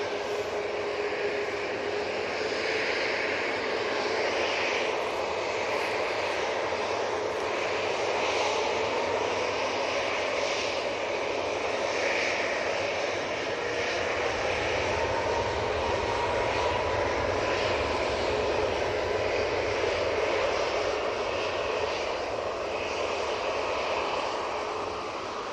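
A passing airplane at Manchester Airport fills the air with a steady, continuous aircraft-engine roar, broad and sustained throughout, rising slightly in low rumble midway.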